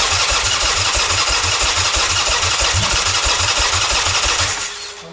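A Buell motorcycle engine fitted in a Scaled Cobra fires up for the first time, running loud with a steady, rapid pulsing chug that fades off sharply at the end.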